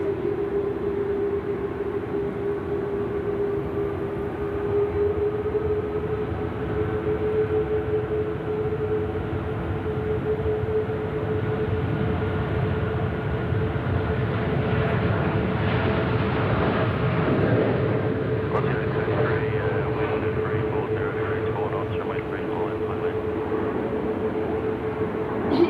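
A Jetstar jet taking off on runway 34 Left at Sydney Airport, a loud steady engine roar that swells and grows rougher midway through, heard throughout with no talking.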